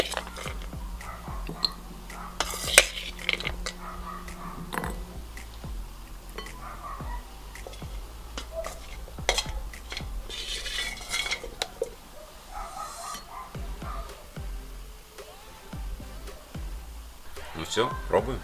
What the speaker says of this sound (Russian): И добавляем грецких орехов. Аккуратно перемешиваем.